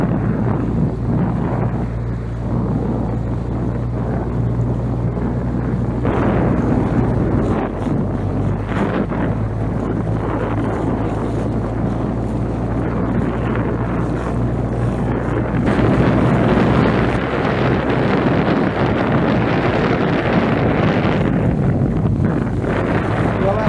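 A boat cruises around Mitchell Island in a harbor, its steady engine drone mixed with heavy wind buffeting the microphone, loud and continuous, with a surge of rushing noise near the end.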